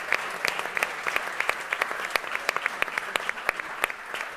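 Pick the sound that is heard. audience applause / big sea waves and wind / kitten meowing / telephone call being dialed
audience applause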